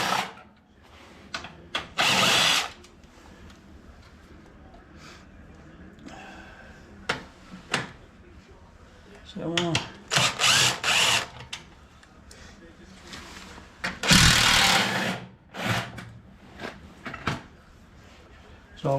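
A cordless drill loosens bolts on the gearcase of a Honda HS928 snowblower in several short, loud whirring bursts separated by pauses, with clanks of metal parts and tools between them.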